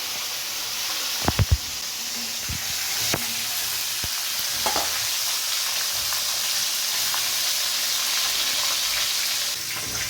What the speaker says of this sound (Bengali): এবার আমরা এই গোটা ভেটকি মাছের মাথাটা ভেজে নেব।